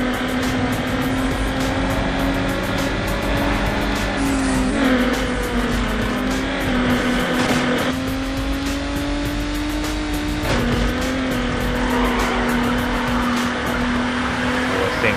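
In Need for Speed Underground, a Hyundai Tiburon GT's engine drones steadily while its tires squeal and grip through corners, a continuous loud racing-game mix with no speech.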